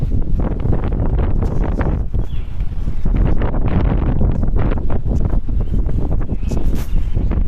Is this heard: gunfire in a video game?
no